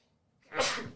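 A single close, sharp sneeze bursts out after a breathy intake, alone and fairly loud.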